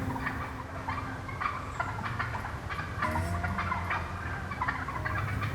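A wild turkey gobbler gobbles a few times during a fall turkey hunt in the woods, coming through faint and somewhat distant over a low background hum.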